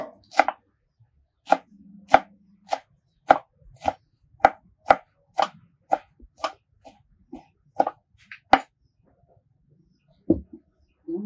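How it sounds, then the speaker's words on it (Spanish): Cilantro being chopped with a knife on a board, a close series of about a dozen crisp, evenly spaced chops in a quiet room that slows to a few final cuts. "Ahora voy a picar también el cilantro."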